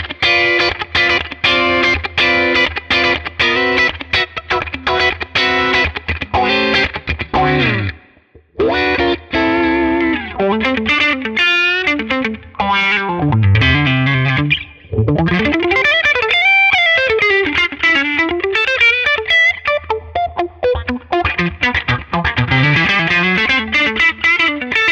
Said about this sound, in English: you can't go wrong with a bit of Autowah